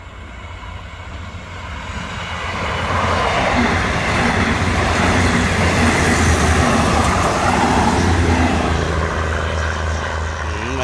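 Train 415 running from Nakhon Ratchasima to Nong Khai with seven carriages passes by, a steady loud rumble that swells after the first couple of seconds and holds, with rail clatter and wind noise.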